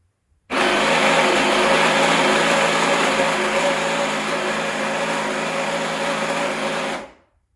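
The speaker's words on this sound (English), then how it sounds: "So I'm going to use my machine to select the dosage. Sorry, my grinder." Rancilio Silvia espresso setup's coffee grinder runs steadily for about six and a half seconds, a loud continuous whirring grind of an 18-gram dose that starts abruptly and winds down at the end, with no talking.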